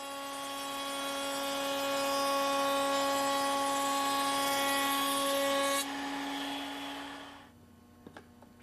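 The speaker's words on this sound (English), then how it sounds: "we round the edges with an 1/8 inch radius bit at the router table" A router table with a 1/8 inch radius bit rounding the edges of wooden tenon stock, a loud steady high-pitched whine that cuts off and winds down at the end.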